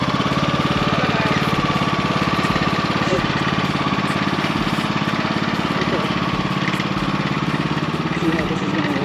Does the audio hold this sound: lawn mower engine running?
yes